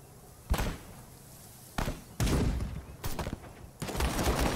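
Gunfire in the Call To Arms video game breaks out over a low battlefield rumble: several loud, abrupt blasts and cracks arrive at irregular intervals, some with rolling echo and debris-like tails.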